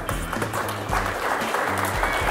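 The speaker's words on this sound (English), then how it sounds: "Big round of applause for Rusty Harvey and Chris Harvey." A crowd at a Lake Sam Rayburn fishing tournament weigh-in claps for the winning anglers, a brief burst of steady applause with voices mixed in.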